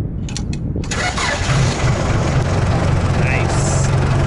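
A backhoe's diesel engine cranks and fires up, then settles into a loud, steady rumbling idle close by, with a brief clatter at the start.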